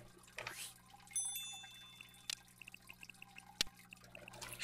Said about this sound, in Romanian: Mamă, sunetul ăsta de apă.